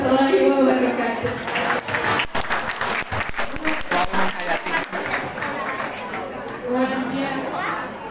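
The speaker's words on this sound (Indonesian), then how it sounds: "Berikan tepuk tangan yang meriah sekali lagi untuk Ibu Gina ya." An audience at a school talk show closing event applauds, with loud clapping at first that thins into scattered claps and chatter, while voices talk through it.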